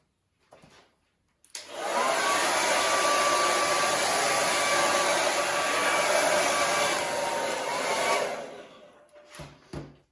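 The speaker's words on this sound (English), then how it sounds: "I'm just going to hit it with a hairdryer for the purpose of this workshop" A hair dryer drying a painted canvas roars at a steady high pitch for several seconds after a brief click, then cuts off, followed by a few faint handling knocks.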